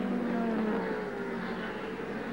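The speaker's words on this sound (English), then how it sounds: "There's definitely one of the cars in that pack making some ugly sounds." Distant touring car engines at the Phillip Island circuit drone steadily, with a rough, uneven buzzing note running through the pack from one car.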